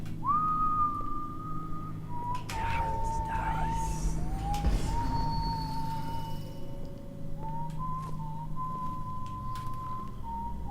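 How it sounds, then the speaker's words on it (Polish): A character in the video game Dishonored whistles a slow tune of long, held notes with short breaks, heard over a steady background bed while a voice talks. "Co tak sobie pogwizdujesz?"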